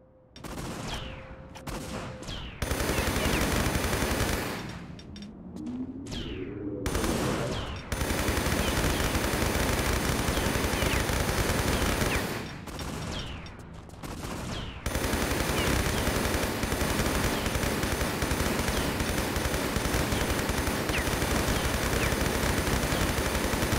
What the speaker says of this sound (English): Shooting her to make sure it works.